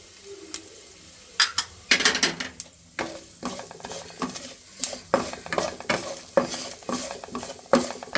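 Dried red chillies, cumin and poppy seeds roasting in oil in a pan for a crab curry, with repeated scraping stirs and light crackling sizzle coming in uneven bursts close by.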